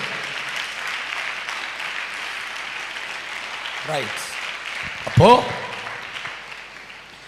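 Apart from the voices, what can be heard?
audience clapping in praise at a church youth revival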